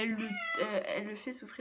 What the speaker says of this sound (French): donc ça c'était mon chat